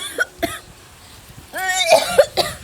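A few short, sharp coughs, then a burst of harsher coughing close by, ending with a couple more hacking coughs.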